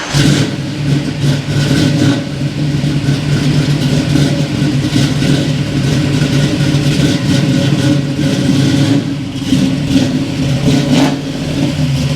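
A rough 1971 Chevy Nova engine revs steadily and loudly, rumbling and sputtering continuously as the car pulls away, with no voices.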